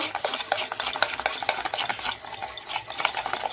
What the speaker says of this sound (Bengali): ইনোটা দিয়ে আবার ভালো করে মেখে নেব